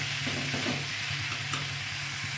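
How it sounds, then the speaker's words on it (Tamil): Tomatoes and onions for a prawn thokku sauté in a hot pan with a steady close sizzle and the occasional scrape of stirring, continuous with no voices. "இப்போ இதில் தக்காளி சேர்த்துக்கலாம். தக்காளி சேர்த்துட்டு நல்லா வதக்கிடலாம்."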